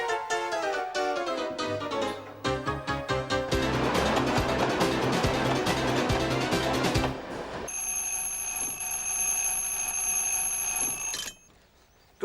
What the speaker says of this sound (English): And don't forget to set your alarm nice and early.